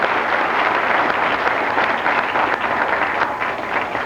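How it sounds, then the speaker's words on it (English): A club audience gives a sustained, dense round of applause for the master of ceremonies, a steady wash of many hands clapping together without a break. "Let's have a nice fine round of applause for our master of ceremonies"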